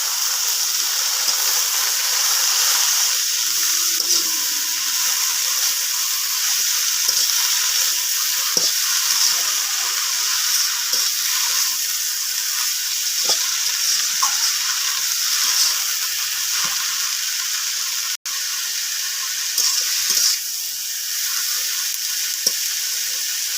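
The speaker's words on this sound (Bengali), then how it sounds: "এটা ঢাকিয়ে দিয়ে ভালো করে ভাজা ভাজা করতে হবে যাতে কাঁচা গন্ধটা না থাকে।" Chopped bottle gourd leaves fry in a covered pan, giving off a loud, continuous hissing sizzle that runs unbroken for the whole stretch, with faint scattered crackles and one brief knock near the end.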